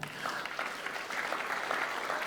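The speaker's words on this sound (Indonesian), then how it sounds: "tepuk tangan untuk Tuhan" A church congregation at a Pentecostal Sunday service claps together for about two seconds, a dense, steady wash of applause with no break.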